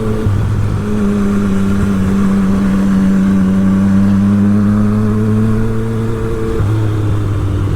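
A 2007 Triumph Speed Triple 1050 being ridden on a street gives a loud, steady engine drone under constant wind rush, holding an even pitch until the revs dip briefly near the end.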